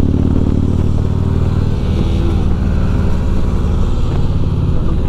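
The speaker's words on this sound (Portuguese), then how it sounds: "Ah, motinha." A motorcycle rides on a road during a touring trip through the Atacama. A loud, steady engine drone with heavy wind rumble continues through the whole stretch, with no voices.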